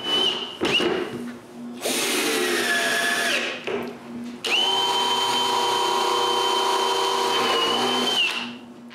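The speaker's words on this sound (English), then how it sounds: "I turn the side around and screw the support from the other side." Power drill driving screws through a support into the side of an oak kitchen cupboard, short whirring bursts followed by a longer sustained whine, close and loud with no talk.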